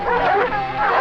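Hunting hounds barking close and loud at a cornered jaguar, a quick burst of overlapping yelps and barks.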